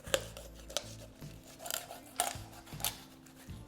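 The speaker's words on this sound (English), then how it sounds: "Make sure you're using a sharp knife or scissors if you have that." Raw chicken is cut with a sharp knife or scissors, giving a quiet series of crisp snips and slicing scrapes at irregular intervals, close and otherwise silent.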